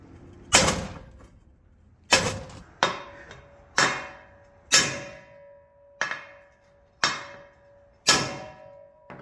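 A hammer striking a socket placed against a U-joint cap on a GMC 2500 HD pickup, with eight sharp metallic hits at roughly one-second intervals, each ringing briefly, close and alone.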